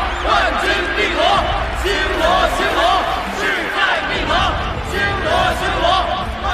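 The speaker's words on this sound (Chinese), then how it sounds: "请以热烈的掌声，有请进入半决赛的四支队伍" Crowd in an animated tournament arena at a semifinal, roaring loudly in rhythmic, chant-like cheers that pulse throughout, dense and close.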